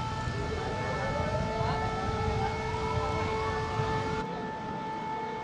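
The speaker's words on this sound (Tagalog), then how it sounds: "pinatunog na ang sirena" A civil defense siren wails steadily and loudly over a flooding river, its sustained tones rising in pitch as the second flood alarm sounds, with a dense low rumble of background noise and no voices.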